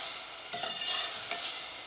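Tomatoes and spices sizzle steadily in a hot pan while a spoon stirs them with a couple of soft scraping strokes.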